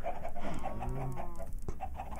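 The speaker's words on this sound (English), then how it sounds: "The chickens push you around." Chickens cluck in the Minecraft video game, a steady run of short repeated calls close by with a brief louder squawk in the middle, no talking.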